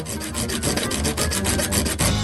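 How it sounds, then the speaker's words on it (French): A saw rasps back and forth in steady, rapid strokes, a close, gritty scraping that repeats without pause. "Une scie, c'est beaucoup mieux."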